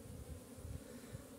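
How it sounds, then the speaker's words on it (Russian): Honey bees buzzing at an apiary hive with many forager bees flying, a steady faint low hum without pauses, no voices. "Смотрите, сколько здесь летной пчелы."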